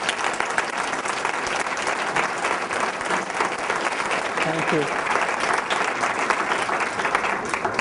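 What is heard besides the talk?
audience applause for the speaker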